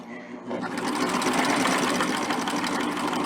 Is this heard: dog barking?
no